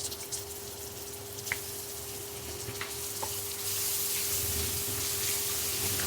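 Garlic paste and spices fry in a pan for chicken biryani, a steady close sizzle with occasional stirring scrapes that grows louder and hissier partway through.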